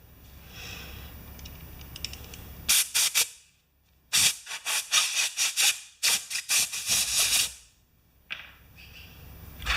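Carburetor cleaner sprayed through a small carburetor part from a Honda HRA214 lawn mower, giving repeated bursts of sharp hissing spray with a whistling tone, separated by short silences.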